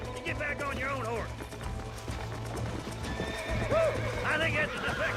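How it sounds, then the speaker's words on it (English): Hooves clip-clop steadily under a horse's whinnies, once early and again near the end, in the Red Dead Redemption video game on Xbox One S, with voices in the background. "You get back on your own horse."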